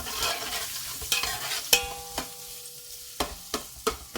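A spoon stirs a chicken curry base of spices in a pot, giving repeated scraping knocks at an uneven pace with a low sizzle underneath, close and clear with no talk.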